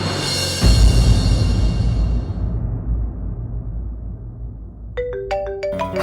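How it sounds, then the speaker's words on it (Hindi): A phone ringtone chimes in a few bright, rising electronic notes near the end, following a loud sustained musical swell that fades out. "पापा का फोन।"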